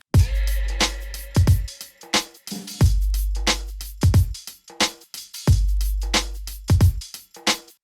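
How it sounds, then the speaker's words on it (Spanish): Electronic drum beat for a metal and hip hop song, with deep booming kicks, sharp snare cracks and ticking hi-hats in a steady, punchy loop, played loud and alone with no talking. "Y con eso nuestra base de batería electrónica suena así."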